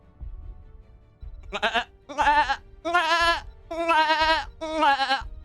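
A person imitates a goat with five wavering, nasal bleats in quick succession, each voiced cry loud and close with brief gaps between them.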